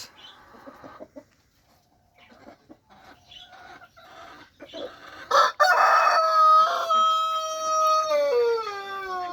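Herati chickens cluck and call in short bursts, a hen among them, building into a loud drawn-out crowing-like cry near the end, close by with faint background.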